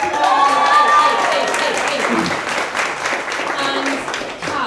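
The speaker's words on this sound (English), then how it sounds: "Go on, Bella, give her a round of applause." Applause at a Lush cosmetics live event, clapping and a little crowd noise under a fading voice at the start, holding steady before tapering near the end.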